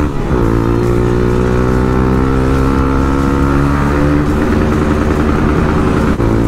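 Vehicle exhaust roaring through a turn, a loud, continuous close engine drone with steady harmonics that rise slightly in pitch, then hold even throughout.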